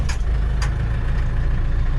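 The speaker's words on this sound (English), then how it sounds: "very smooth running, very quiet diesel engine" A Mahindra Roxor diesel engine idles quietly and smoothly inside an all-weather cab, a steady low hum with a couple of faint clicks near the start.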